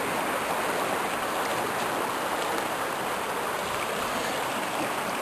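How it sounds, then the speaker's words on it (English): A small backyard brook running with near-freezing water keeps up a steady, close rushing wash from start to finish, with no voices. "Nice place to sit and watch the water flow by."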